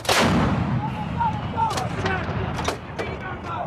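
An M777 towed 155mm howitzer fires during a U.S. Marines live-fire exercise: one huge, sharp blast opens, then a rumbling roar and echoing decay with scattered clanks, close and loud.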